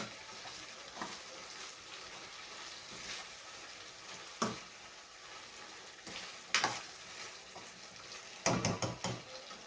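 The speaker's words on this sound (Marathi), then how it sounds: "तेलात आणि मसाल्यात जर शेंगा परतल्या तर लवकर शिजतात" Moringa drumsticks and potatoes sauté in hot oil and masala with a steady, close sizzle, broken by a few sharp clinks and scrapes of a stirring utensil, especially near the end; no one speaks.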